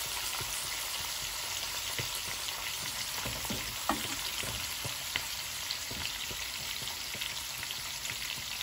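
Masala for palak gosht fries in a pan with a dense, steady crackling sizzle close up, dotted with occasional stirring clinks and scrapes, no voices.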